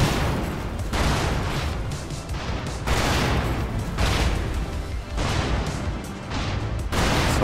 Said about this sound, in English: Not sure if this is our arty or their arty